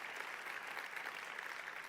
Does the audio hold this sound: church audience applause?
yes